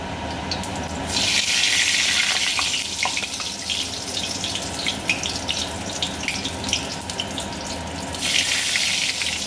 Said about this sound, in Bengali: লঙ্কা আর জিরে আর তেজপাতাটা ভাজা হয়ে এলে